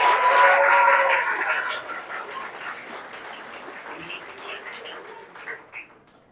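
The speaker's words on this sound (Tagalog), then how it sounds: "Pumalakpak nga po ng malakas ang masasaya." An audience at a church third-anniversary thanksgiving celebration claps, loud at first and then tapering into scattered claps over roughly six seconds, with faint crowd murmur beneath.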